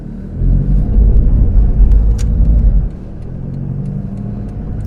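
A Mitsubishi Delica L400 van rolling over gravel, with a steady low rumble of tyres and engine heard from inside the cabin, louder for the first few seconds then settling to an even drone.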